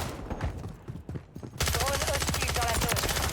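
Submachine gun fire in the Call of Duty Modern Warfare video game erupts partway through as a dense, loud rapid burst that continues steadily to the end after quieter game sounds.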